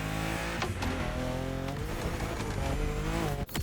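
A BMW M2 engine in The Crew Motorfest drones loudly and steadily with harmonic whine, pitch shifting slightly as it revs, ending with a brief sharp transient.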